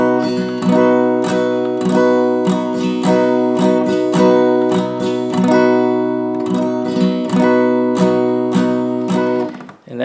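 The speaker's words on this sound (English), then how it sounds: "if you pay attention to the sound you hear when the pick hits the strings, you hear like a little clicking." An acoustic-style guitar strummed with a thin pick in steady repeated strokes, each one opening with a faint clicking attack from the pick on the strings, close and unaccompanied, fading out at the end.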